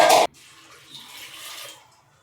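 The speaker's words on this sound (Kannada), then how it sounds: "2 ಲೋಟ ಆಗುವಷ್ಟು ನೀರು ಹಾಕೊಂಡಿದ್ದೀನಿ." Water is poured onto toor dal in a home kitchen: a short loud splashing burst, then a softer trickling, bubbling flow that fades out, with no talking.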